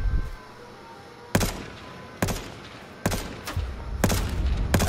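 Scoped rifle fire in the battle royale game H1Z1, with four loud, sharp shots spaced about a second apart, each cracking sharply and leaving a short tail over a quiet background.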